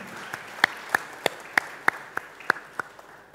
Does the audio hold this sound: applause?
yes